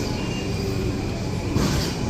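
A metro train in Japan rumbles steadily with broadband rail noise and faint wheel squeal, close and continuous, brightening slightly near the end with no voices.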